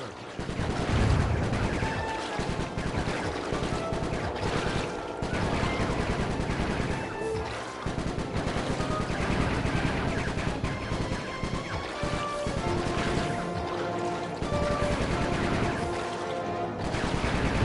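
Sly 3 video game gunfire rattles in dense, continuous bursts, loud and steady over a busy backdrop of game sound and music.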